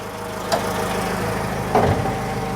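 A Citroen GSA engine idles steadily with a low rumble and a faint rattling whine from an odd fault noise, with two brief louder knocks or clunks.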